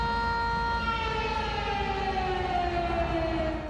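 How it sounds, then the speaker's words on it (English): A loud wailing flood siren in Sumas, Washington drones steadily, its pitch sliding slowly downward, with no other sounds around it. "That's the sound of a flood siren as people here were told to shelter in place."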